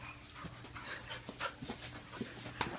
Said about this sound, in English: What a pretty doggy.